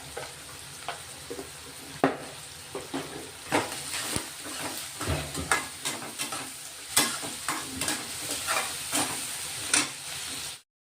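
Finely chopped onions with salt fry in a pan, a steady close sizzle broken by repeated scraping stirs and knocks of a spoon against the pan, with no talking.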